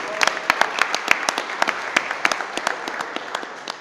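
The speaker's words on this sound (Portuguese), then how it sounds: "Você pode aplaudir a palavra do Senhor." Church congregation applauding during a sermon, a scattered, fairly dense patter of individual claps lasting several seconds at moderate loudness, with no talking over it.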